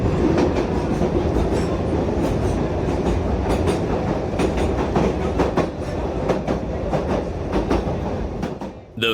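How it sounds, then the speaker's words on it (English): A Chongqing train runs through an apartment building, its wheels clattering in a steady rapid rhythm close by, loud and continuous before fading slightly at the end. "Only in Chongqing could a train route go straight through an apartment building."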